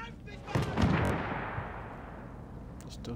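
A field gun fires in a Battlefield 1 World War I battle, a single heavy boom followed by a long rumbling decay, with a voice speaking faintly underneath and distant battlefield noise after.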